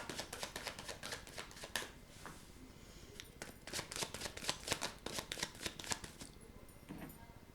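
Tarot cards shuffled and drawn by hand, a close, continuous rapid riffling flutter with short pauses and crisp card slaps, no talk over it.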